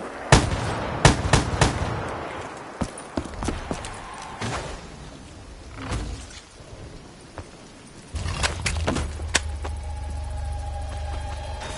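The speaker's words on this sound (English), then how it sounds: "You know where you stand with a shotgun." Shotgun blasts in a PS4 video game come as several sharp, close bangs spread irregularly across the span, separated by quieter stretches of in-game background noise.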